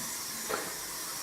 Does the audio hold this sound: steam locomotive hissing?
yes